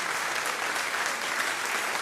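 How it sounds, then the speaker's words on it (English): Applause from a sound effect, a dense, steady wash of many hands clapping that stays loud and even from start to finish. "I'm gonna give him some applause"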